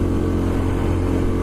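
A motorcycle with a loud exhaust rumbles steadily at close range, a brief, dense low engine drone with no voices.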